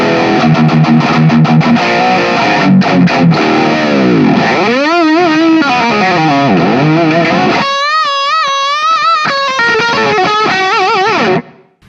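Heavily distorted electric guitar played through a Nux Pulse IR loader using a Greenback 4x12 cabinet impulse, loud and dark-toned, with chugging chords giving way to sustained bent lead notes, alone without talk.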